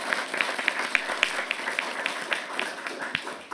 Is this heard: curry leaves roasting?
no